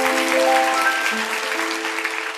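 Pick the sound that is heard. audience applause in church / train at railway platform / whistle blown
audience applause in church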